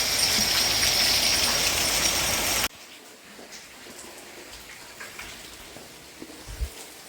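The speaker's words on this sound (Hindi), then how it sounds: "मूसलाधार बारिश हो रही है" Heavy stormy monsoon rain pours down in a loud, dense roar, then abruptly drops to a much quieter patter with a few faint knocks.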